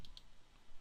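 Mouse clicks during ZBrush sculpting work, two quick sharp clicks near the start, close and faint over a low room hum.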